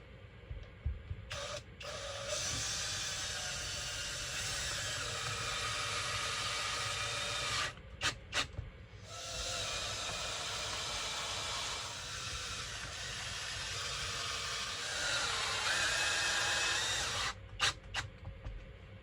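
A power drill whirs in long sustained bursts with brief pauses between, driving self-drilling self-tapping screws nearby during a roof fan install on a VW Crafter van; no talking.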